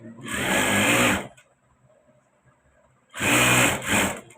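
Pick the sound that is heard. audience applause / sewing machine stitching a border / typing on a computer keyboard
sewing machine stitching a border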